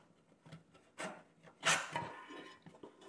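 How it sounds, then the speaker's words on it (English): Screws are undone on the base of a cheap Chuwi 13th Gen i9 mini PC and the case is pried apart. Scrapes, rubs and small clicks come in short, close bursts, with one louder rasping scrape near the middle. "Let's undo the four screws on the base. Then we can tease this apart."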